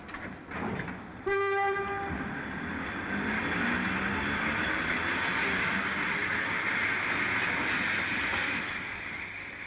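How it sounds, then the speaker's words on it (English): Electric passenger train departing in New Zealand, a horn blast sounding briefly at the start, then a loud steady rumble and rising whine of the train pulling away, with continuous rolling noise throughout. "The electric trains are speeding to the outlying suburbs."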